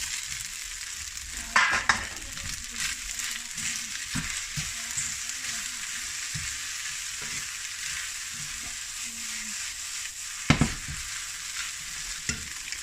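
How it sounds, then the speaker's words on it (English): Udon noodles and sausage fry and get stirred in a pan for kimchi udon, a steady close sizzle with scraping stir strokes and a couple of sharper clanks of the utensil against the pan. "What I'm going to do is add the noodles. Just stir everything through."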